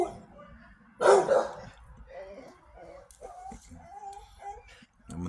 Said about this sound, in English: My dog's been barking.